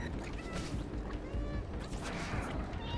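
A cat meows in the video game Stray while waiting for an elevator; several short meows sit amid game sounds and a talking player's voice.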